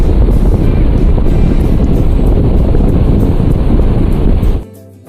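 Sea waves with foam breaking on the Konkan coast near Tondavali village, a loud, continuous roar of surf with wind buffeting the microphone, cutting off abruptly near the end.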